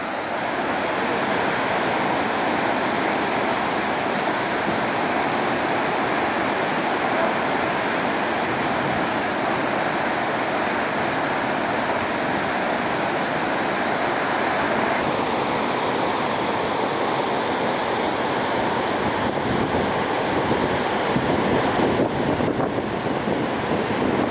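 A constant, broad roar of rushing water from Niagara Falls fills the whole stretch, steady and dense, with wind buffeting the microphone.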